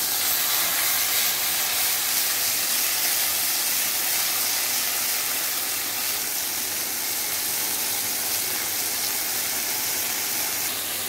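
Beef seekh kebabs frying, a loud, steady sizzling hiss that runs unbroken and close throughout.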